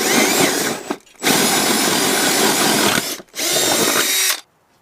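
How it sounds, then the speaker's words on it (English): A power drill whines loudly in two long bursts separated by a brief pause, grinding steadily through wood before cutting off. "we're going to be drilling a hole right through here"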